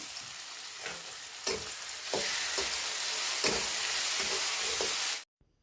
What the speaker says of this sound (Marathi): कांदा टाकते कांदा चांगला परतून घेऊ आपण